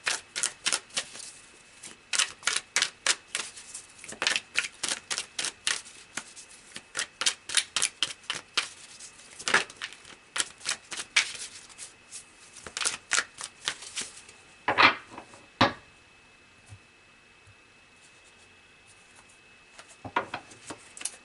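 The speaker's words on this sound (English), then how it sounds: "So let's pull some more cards" Tarot cards are shuffled in rapid riffling bursts of crisp paper flutter, close and fairly quiet, with short pauses between rounds and a few louder slaps and taps near the end.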